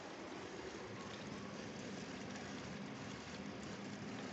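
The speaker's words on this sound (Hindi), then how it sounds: "उसके बाद पानी फिर से आना शुरू हो गया मशीन में" A Galanz dishwasher fills with water, producing a steady, unbroken rushing hiss that stays even in loudness throughout, with no voices over it.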